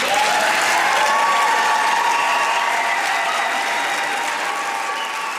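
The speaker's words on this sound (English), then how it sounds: "there's all of the cheering that we hear throughout the entire address" Sustained audience cheering and applause during Wisconsin Governor Evers' address in a large hall, a dense, even wash of clapping and crowd roar holding steady throughout.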